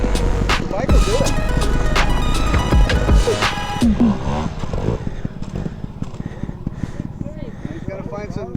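Enduro or trials motorbike engine revving up close amid clattering over rough ground, with a loud burst of throttle early on, then choppy engine pulses fading under the talk of riders.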